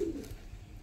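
A Kasuri pigeon gives a short, soft low coo at close range, fading quickly into quiet room background.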